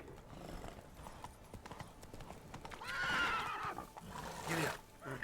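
A horse gallops in The Witcher 3, with rapid rhythmic hoof clip-clops at moderate volume and a whinny near the end, as someone talks over it.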